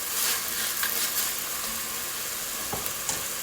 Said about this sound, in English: So I'm just gonna saute this for a bit.